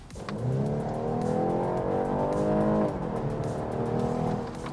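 A BMW 4 Series G22 in sport mode accelerates hard with a steady, loud engine drone that climbs in pitch, briefly drops at a gear change, then rises again.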